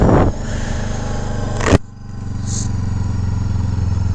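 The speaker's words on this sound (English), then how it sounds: "time to turn on the gas motor, and there it goes" A Kawasaki Z7 Hybrid motorcycle switching from electric to its gas engine while accelerating, a near, loud engine note with a brief clattering surge, then a steady low drone settling in under a faint whine.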